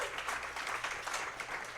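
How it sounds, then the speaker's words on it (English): A short burst of applause from a small audience at a live show in Washington, DC, steady clapping at moderate volume for a couple of seconds. "round of applause for that"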